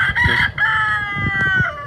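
A rooster crows loudly nearby on a homestead, one long strained call with a few faint clucks and rustles underneath.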